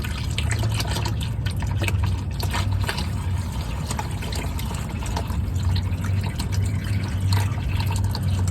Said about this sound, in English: we can drop this pan slowly and let this transmission fluid leak out